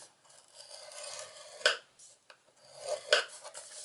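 Cardstock is scored in half on a scoring board, a faint scraping rub of a stylus along paper with two sharper strokes about a second and a half apart, close and quiet.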